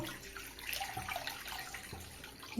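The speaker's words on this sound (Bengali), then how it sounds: "কড়া বসিয়ে দিচ্ছি, কড়াইয়ে জল দিয়ে দেবো।" Water is poured into a wok set on a lit gas stove, ready for boiling cut pumpkin: a steady, close liquid hiss running for a couple of seconds with no voices.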